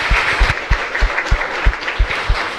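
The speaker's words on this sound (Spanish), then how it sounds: "Y un fuerte aplauso para todos ustedes" Congregation clapping at the close of a Mass, a rhythmic, fairly loud patter of many hands with distinct repeated claps standing out, sustained throughout without speech.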